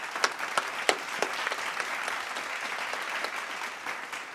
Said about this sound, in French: On peut applaudir les savants masqués